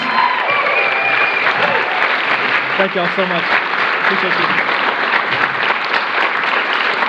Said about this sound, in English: Let's give our representatives a round of applause